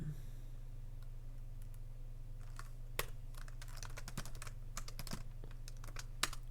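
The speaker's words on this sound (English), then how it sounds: "You can use the keyboard to play Future Fighter." Computer keyboard keys are pressed while playing the fighting game Future Fighter, giving sparse, quiet clicks that turn into quicker bursts of tapping over a low steady hum.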